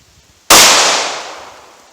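A single sharp, loud shot from a Glock handgun firing Hornady Critical Duty ammunition at a range, bursting suddenly and then ringing out in a long decaying tail.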